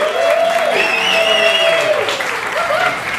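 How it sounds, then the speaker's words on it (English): Studio audience at a comedy talk show claps for a guest, a steady dense wash of applause with a few cheers and whistles running loud throughout. "Big round of applause for Mr. Johnny Duncan, everybody."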